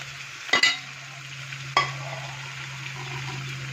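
Browned onions sauté with cinnamon, cardamom and cloves in oil, giving a soft continuous sizzle broken by two quick stirring scrapes near the start, up close and fairly quiet.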